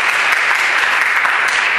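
An audience applauds at a 2011 education summit honoring Oregon's Superintendent of the Year, a dense, steady wash of many hands clapping at full volume for under two seconds.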